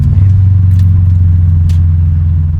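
Loud, deep idle from a modified turbocharged Subaru WRX engine, a steady low drone throughout, with a few faint metallic clicks on top.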